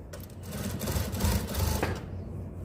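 A sewing machine runs a steady stitching burst while a dress shoulder seam is sewn for pressing open, a continuous mid-level whirr with a slight fluttering rhythm that eases off toward the end.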